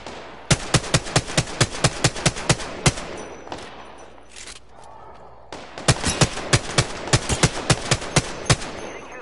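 Rapid bursts of automatic gunfire in an Apex Legends match, two long volleys of sharp evenly spaced shots separated by a brief lull, loud and close with no talking.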